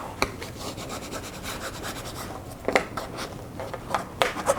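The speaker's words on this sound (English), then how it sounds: "with your bone folder, you're going to bring up the excess and turn that in nicely over onto the board into that groove area there" A bone folder rubs book cloth down over board in close, scratchy strokes, irregular rasping passes with a few sharper scrapes and taps, quiet and alone.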